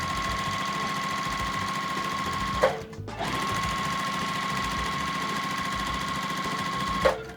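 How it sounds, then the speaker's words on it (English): A sewing machine stitches charm pack quilt squares together, running in a steady mechanical whir for about two and a half seconds, pausing briefly, then running on again at an even pace until it stops. "we're going to sew down both sides"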